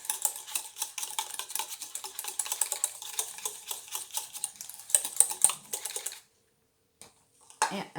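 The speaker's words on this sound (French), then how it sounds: "4 gouttes et on remue" A rose buriti day cream mixture is stirred after drops are added: brisk, close scraping and clicking strokes repeat rapidly for about six seconds, then stop into near silence with a few faint taps.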